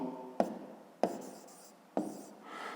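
A pen scratches out a fifth-grade math exercise by hand on paper, in three short bursts of strokes, each starting with a sharp tap, close and quiet with no talking.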